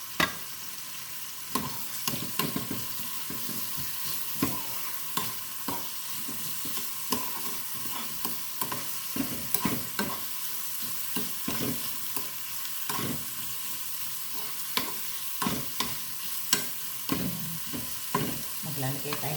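Garlic and onion sautéing in plenty of hot oil, a continuous frying hiss broken by frequent scraping stirs and taps of a utensil against the pan, close and fairly steady throughout with no talking.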